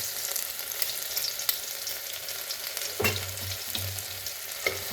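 Garlic and cumin paste sizzles steadily in hot mustard oil for a Punjabi-style cluster bean curry, with a few sharp utensil clicks and bursts of spattering near the end.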